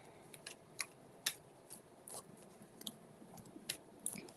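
Tarot cards are shuffled in quiet, scattered crisp snaps and riffles that come irregularly and faintly, with no talking.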